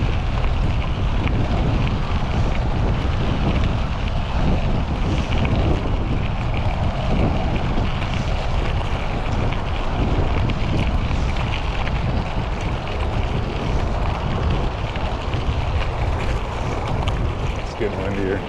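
Steady wind roars over the microphone during a drive from Ellensburg to Greenwater, a loud continuous rumbling wash with no breaks, and a voice talks under it.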